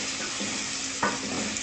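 Garlic ginger paste fries with light golden onions in a pan, a close, steady sizzle with a few scraping stirs, one sharper stir near the middle and no voice over it.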